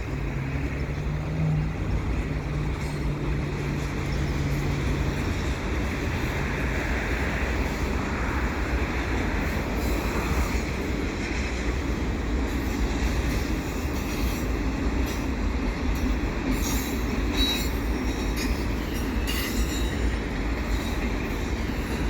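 A CP westbound mixed freight train with stack cars passes at the St. John's Blvd overpass. It makes a steady, loud rumble of rolling wheels for over twenty seconds, with scattered squeals and clanks.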